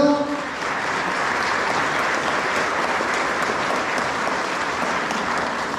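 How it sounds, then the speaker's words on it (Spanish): Steady, dense clapping from a crowd at a village festival in honor of the Cristo de los Pareos in San Bartolo, Michoacán, sustained and fairly loud after a brief trailing voice at the start. "un aplauso para el pueblo de San Pedro"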